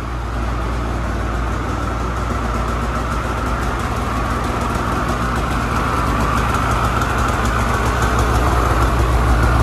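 An 850 engine idles on its stock exhaust before a GGB Can exhaust install. It gives a steady, loud, even rumble throughout with no talking.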